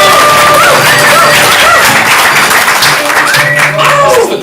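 A live comedy-show audience at ComedySportz cheers wildly and claps as team captains are called onto the field, a loud, dense burst of whoops and applause with excited shouts rising above it.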